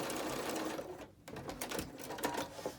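A sewing machine stitches down a small tab on a fitted fabric mask with pocket, a steady close whirring run that dips briefly, faint and continuous throughout.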